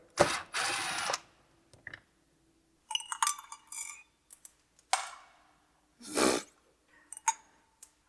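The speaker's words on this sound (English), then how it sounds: "we're just going to take these Torx out real quick" Torx screws are backed out of a car's front brake assembly with a power driver, giving several short buzzing whirs separated by quiet gaps, plus small metallic clicks and clinks.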